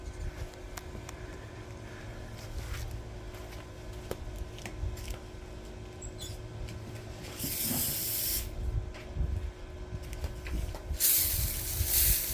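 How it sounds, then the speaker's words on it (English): A garden hose sprays water to rinse dust off salt-and-pepper rocks in a garden, a steady hiss that swells louder and broader midway and again near the end, with no talk. "now watch as I get the hose out and see when I rinse off some of this dust"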